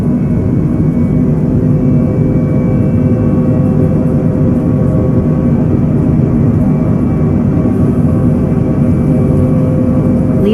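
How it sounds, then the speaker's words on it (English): A simulated aircraft engine runs at full throttle for takeoff in Microsoft Flight Simulator 2020, giving a loud, continuous low roar and drone that stays steady throughout with no speech. "Apply full throttle and keep aircraft straight."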